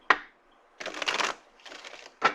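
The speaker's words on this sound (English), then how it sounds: "I'm going to do some shuffling" Tarot cards being shuffled by hand in close, quiet surroundings: a sharp tap, two rustling riffles about a second each with a short pause between, then another crisp tap at the end.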